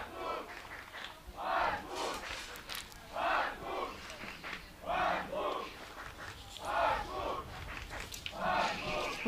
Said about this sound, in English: We hear the other teammates cheering for him.